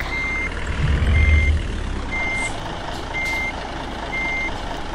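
In a bus simulator video game, a bus backs up to park while its reversing alarm sounds five evenly spaced, clear beeps over a low engine rumble, with a brief surge of engine noise near the start.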